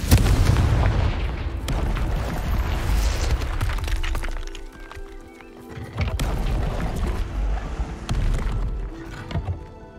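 A Confringo blasting spell in the Hogwarts Legacy video game goes off as loud booming explosions with shattering crashes and rumbling debris, a brief lull midway, then another heavy round of blasts.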